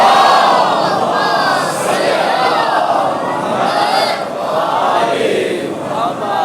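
Large crowd at a religious majlis chanting salawat together, a loud, continuous swelling roar of many voices rising and falling in waves, close and dense.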